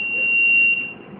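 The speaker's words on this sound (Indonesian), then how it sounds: "buzzer pada alat ini akan berbunyi" A steady high-pitched electronic buzzer tone from an incubator temperature alarm sounds for about a second and then cuts off, over faint background hum.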